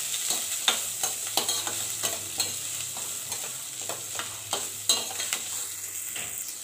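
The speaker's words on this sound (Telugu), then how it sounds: "ఆనియన్స్ చేసుకోవాలి ఇంకా పచ్చిమిర్చి కూడా వేసేసుకోవాలి ఇందులోనే వీటిని బాగా ఫ్రై చేసుకోవాలి" Onions and green chillies for buttermilk upma frying in a pan under a steady soft sizzle, with regular scraping strokes of a spoon stirring at roughly half-second intervals, no voices.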